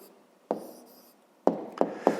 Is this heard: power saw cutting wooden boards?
no